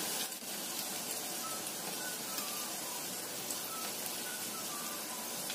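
Fritters fry in hot oil in a pan, giving a steady dense sizzle that holds loud and even throughout with no talking.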